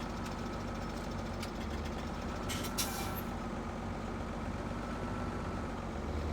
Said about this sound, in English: I'm gonna need to back the trailer.